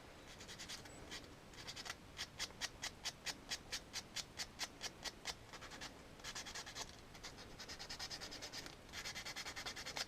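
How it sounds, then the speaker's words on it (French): Sandpaper rubs away a moulding line on a moulded piece in quick, even back-and-forth strokes, close and steady, shifting into a continuous scratchy rasp toward the end. "J'avais peur de trop poncer mais finalement ça va."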